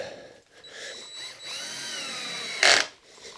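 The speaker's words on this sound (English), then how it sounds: "I like using these drills that have the little bit of a clutch on them that can, you know, not over tighten." A cordless power drill with a clutch drives screws into a wooden fence door, its motor whirring steadily with a loud burst near the end as a screw seats.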